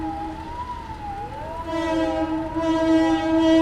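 A train at a railway crossing in Chittagong, with loud, sustained horn-like tones that waver and rise while a steady rumble runs underneath throughout.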